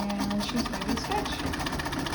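Antique Singer model 27 sewing machine stitching steadily, a continuous mechanical whir with rapid rhythmic needle ticking, close and fairly loud, with faint talk mixed in.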